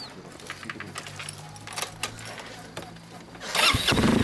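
A 2013 Honda Zoomer-X scooter with an aftermarket Hot Lap exhaust starts and idles with a rough, raspy exhaust, a rev rising at the end, with light rattling and a faint voice nearby.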